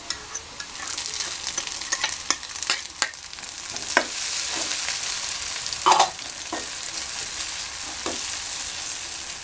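Sliced onions fry in a pan with turmeric and salt, giving a constant close sizzle broken by scattered sharp stirring clicks and scrapes; no voices.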